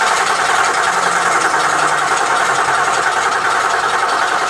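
An engine idles in a steady, loud, continuous rumble with no clear changes in pace, close by and with no voices over it.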